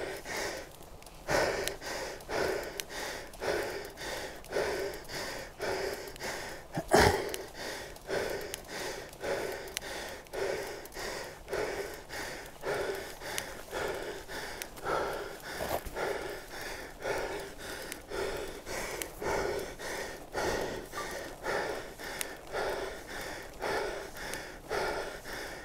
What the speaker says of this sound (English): You might be able to tell from my breathing.